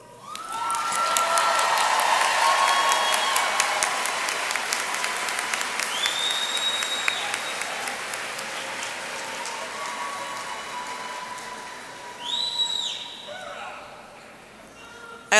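An audience claps at a nursing pinning ceremony, with loud, dense applause that builds quickly, holds, then gradually thins out, and a few cheers and whoops rise over it near the end.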